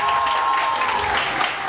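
Dense applause from a studio audience on a morning TV show, steady and fairly loud throughout with no talking over it.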